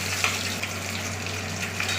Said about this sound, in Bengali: এই মাছ ভাজা চাপিয়ে দিয়েছি।